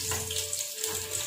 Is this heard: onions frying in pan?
yes